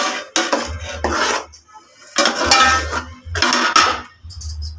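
A spoon scrapes and stirs thick blended tomato paste in a metal pan in bursts of rasping strokes, close by, with short pauses between them.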